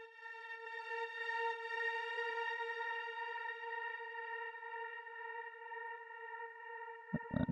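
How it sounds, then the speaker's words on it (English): A build-up drone sample in Ableton Live for deep progressive house: one sustained pitched note with stacked harmonics, holding steady and faint for several seconds before a short burst of other sound at the end. "This is build up drone, like one single note but pitched."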